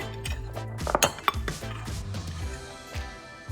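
A utensil stirs cinnamon, pumpkin spice, nutmeg, baking soda and salt together in a bowl for pumpkin bread, making a run of light clinks and scrapes against the bowl, close and quiet, with no voices.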